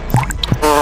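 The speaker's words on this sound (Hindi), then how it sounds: "ये हनी अपने माथे पर डाल और कमाल दे।" Honey poured onto a head makes close, wet squishing drips, two soft sticky plops followed by a brief gurgling fill, loud and up front.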